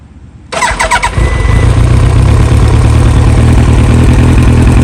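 A Yamaha R1 motorcycle cranks briefly with a quick whirring starter, then fires and settles into a loud, close, steady idle with a deep, even burble.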